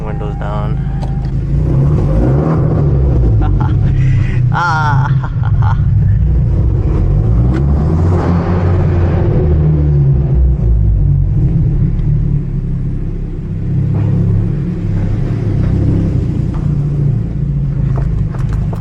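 A manual Hyundai Genesis Coupe with a loud exhaust and a turbo rumbles steadily and close by as it drives at night with the windows down. The engine drone stays loud throughout, and a voice talks over it at times.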